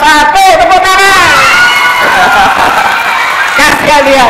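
A crowd at a writing and reading training session claps and cheers loudly, and excited voices and shouts ring over the applause the whole time.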